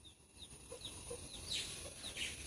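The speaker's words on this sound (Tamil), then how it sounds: "அந்த கோழி கொத்துதுங்க" Faint, distant hen clucks repeat in short soft bursts over a steady background hiss, with a few brighter calls toward the end.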